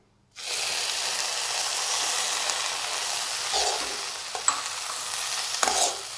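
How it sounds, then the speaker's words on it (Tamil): Milk poured into a pan of bread crumbs frying in ghee for bread halwa, starting with a sudden loud, steady sizzle that holds throughout, with a few faint scrapes of stirring. "இப்போ பால் அரை டம்ளர் சேர்க்கலாம்"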